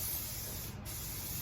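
An aerosol spray can hisses in one continuous close burst as it coats car trim for a chrome delete, steady and loud for the whole moment.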